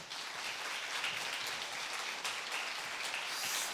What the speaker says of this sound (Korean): 박수로 우리 목사님 모시도록 하겠습니다